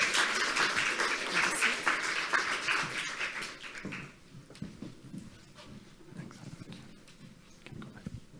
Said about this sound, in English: A big round of applause for Julian and Biljana, please.